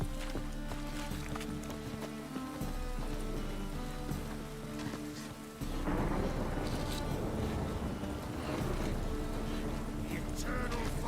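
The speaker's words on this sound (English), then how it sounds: "Must be mad running around in this rain." Steady rain hisses throughout a Witcher 3 scene, with a low rumble of thunder swelling midway and heavier downpour after, fairly faint and distant-sounding.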